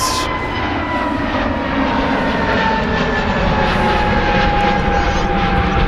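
An Airbus A321 airliner in a Scandinavian carrier's new livery makes its takeoff roll at Manchester Airport, its engines giving a loud, steady roar that builds slightly as it accelerates.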